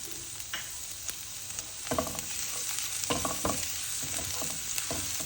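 Two tablespoons of chopped onion frying with garlic in a pan, a constant close hiss of sizzling oil broken by scraping, clacking stirring strokes, with no talk.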